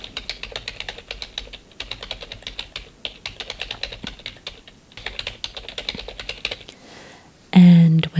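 Soft keyboard typing in a quiet, soft-spoken ASMR law-firm roleplay, with close, irregular bursts of clicking keys and brief pauses, ending in a short louder tonal chime.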